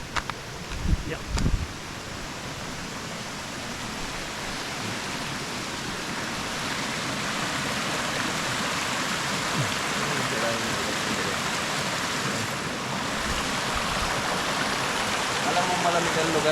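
A river flows past a campsite with a steady, broadband rushing wash that stays constant and fairly close throughout, after a few brief knocks at the start.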